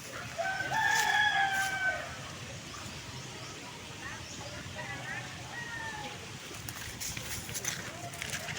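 Chickens crow and cluck outdoors, with a clear rooster crow near the start over a steady background of farmyard noise and bird calls.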